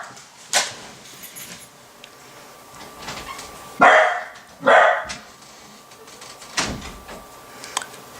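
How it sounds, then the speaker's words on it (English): A dog barks indoors in a few sharp, loud bursts close by, with two strong barks in quick succession mid-way and fainter yips and rustles around them in an otherwise quiet room. "my dog went a little crazy"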